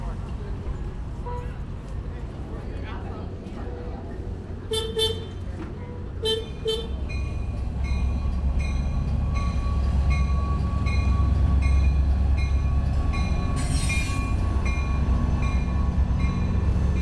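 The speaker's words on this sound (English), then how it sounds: "The train pulled in and it looked like we'd be leaving on time." Passenger train pulling into a station on the San Joaquins line, a deep rumble building steadily with brief horn toots partway through, and voices talking in the crowd around it.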